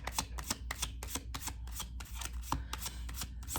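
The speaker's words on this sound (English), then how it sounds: "As I shuffle the cards" A Gilded Tarot Royale tarot deck being shuffled, giving a quick series of crisp riffling card bursts repeated about a dozen times in a steady rhythm, close and alone with no talking.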